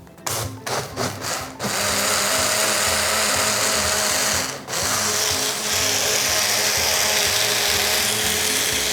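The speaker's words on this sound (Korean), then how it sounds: "믹서로 그냥 갈아주면 돼요" A strong blender grinds sesame seeds with water and ice, starting with a few short stuttering bursts, then running loud and continuous with a brief dip partway through.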